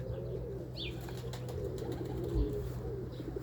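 A flock of Budapest and Czaposze pigeons sit on a barrack roof, heard as low soft cooing with a brief flutter of wings, in quiet outdoor surroundings with no talk.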